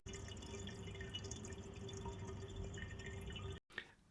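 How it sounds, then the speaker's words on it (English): Water drains noisily through an aquarium weir box before valve adjustment, a continuous gurgling, dripping rush at low level that stops abruptly near the end, followed by a few faint drips. "keep opening it slightly until the weir box runs silent"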